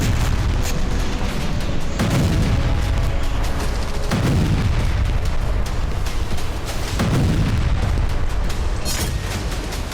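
Explosions from Israeli airstrike bombing around Aleppo-area cities, with repeated heavy booms roughly every two seconds over a dense, continuous roar of rumble and crackle.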